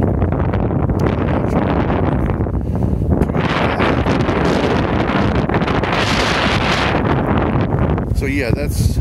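Strong Antarctic wind roars and buffets a microphone in sustained gusts, a heavy rushing noise that barely lets up, close and loud.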